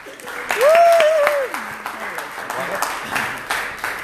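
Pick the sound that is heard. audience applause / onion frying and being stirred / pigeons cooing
audience applause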